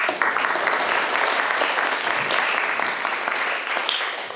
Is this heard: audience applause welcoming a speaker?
yes